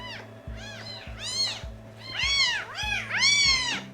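A tiny newborn kitten weighing about 70 grams meows repeatedly, high thin cries coming in quick succession and growing louder, close to the listener, over a low steady background hum.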